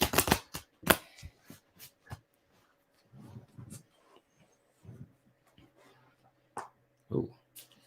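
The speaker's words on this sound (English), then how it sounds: "So let me see, shuffle this again." A deck of oracle cards being shuffled by hand, with several quick riffling bursts and soft slaps close by in a quiet room, broken by pauses and faint low noises.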